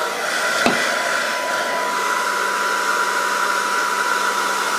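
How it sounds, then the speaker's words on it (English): A hair blow dryer runs on medium heat and medium speed into an air curler, making a steady close whooshing hum. A single soft knock comes near the start. "blow dryer is on medium heat and on medium speed or whatever it is, not high"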